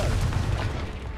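A Confringo fire spell explodes in Hogwarts Legacy, a loud booming blast with a dense low rumble that fills the whole short moment before tapering slightly.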